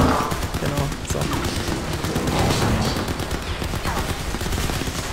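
Dense, continuous gunfire from the shooter game Crysis 3, with rapid automatic bursts layered over a busy, loud game soundscape for the whole stretch.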